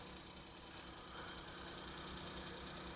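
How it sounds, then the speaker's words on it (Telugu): Maruti Alto LXi car engine idling quietly, a steady low hum with faint mechanical ticking that swells slightly partway through, heard up close with no talking. "ఇంజన్ చూడండి సార్. చాలా సైలెంట్గా ఉంది ఇంజన్ అయితే."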